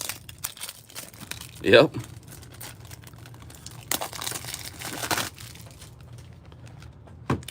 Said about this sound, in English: I have to open my top folders here